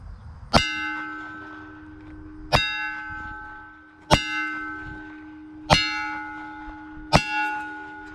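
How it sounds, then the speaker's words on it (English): A 9mm pistol, a CZ P10C, fires at a steel target, each hit ringing out as a loud metallic clang with a long decaying tone. Five strikes come roughly one and a half seconds apart, close by. "Shooting a 9mm out of a CZ P10C."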